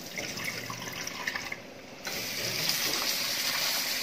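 Bitter gourd being washed by hand under running tap water in a sink, a steady gush of water with splashing and rubbing, briefly dipping in the middle before resuming louder.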